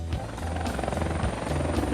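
Military helicopters in a Vietnam War counterattack, rotor blades thumping in a fast steady chop, loud and close, with a droning engine underneath.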